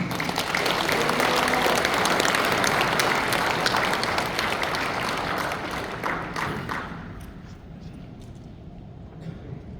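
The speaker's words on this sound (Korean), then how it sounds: "박수로 환영하겠습니다." A church congregation applauds to welcome a preacher to the pulpit at a national men's assembly, steady dense clapping for about seven seconds before thinning out and fading.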